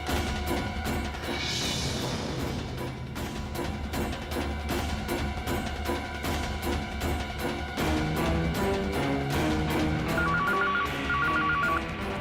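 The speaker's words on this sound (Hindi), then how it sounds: "आखिर कोई फ़ोन क्यों नहीं उठा रहा?" A telephone rings repeatedly and goes unanswered, short pulsed ring tones near the end of a busy, music-laden TV serial scene without speech.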